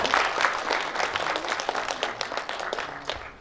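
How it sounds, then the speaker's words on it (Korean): Audience applause at a journalists' day commemorative ceremony, dense steady clapping from a seated crowd filling the room, close and sustained before easing off at the end. "네, 역시 박수 부탁드립니다."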